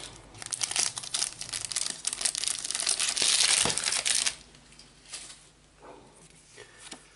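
A foil Topps Match Attax football card pack wrapper crinkles and tears open loudly for about four seconds, followed by softer scattered rustles and handling noises.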